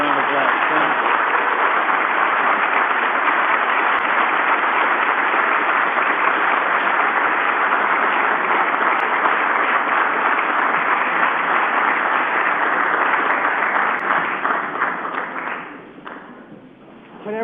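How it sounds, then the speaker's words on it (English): Sustained audience applause after a speech by Vice President Mike Pence at a Federalist Society event, dense and steady for about fifteen seconds before tapering off near the end. "Another round of applause."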